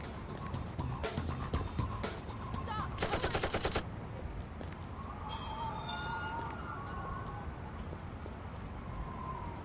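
Machine gun fire in the video game Urban Chaos: a dense burst of rapid shots over the first few seconds, ending in a fast rattling volley, then low background ambience.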